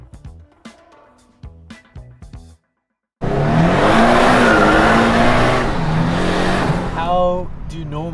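A twin-turbo Datsun 240Z drives loud and close, a dense roaring engine surge after a few seconds of talk and a brief silence, then rising revving tones near the end.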